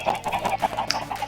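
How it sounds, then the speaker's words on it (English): Chickens in Minecraft Education cluck in quick, repeated bursts close by, several short calls overlapping at an uneven rhythm with one sharper squawk. "There are all of our chickens all around us."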